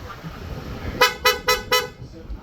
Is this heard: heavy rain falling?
no